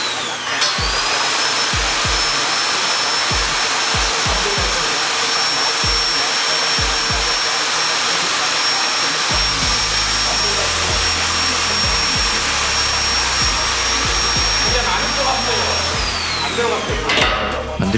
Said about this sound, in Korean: 넣어진 TS 볼트는 샤렌치를 사용해 조여줍니다.